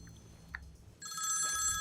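A telephone rings in a scene from a Hindi-dubbed South Indian action film. After a quiet second with faint background sounds, a bright electronic ring begins abruptly and continues steadily at moderate loudness, with no talking.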